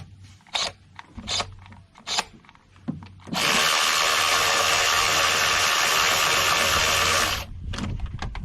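A power tool spins out ignition coil bolts on a 2019 Honda Odyssey 3.5L V6, with a few sharp clicks and knocks before a loud continuous whir of about four seconds, then quieter handling noises.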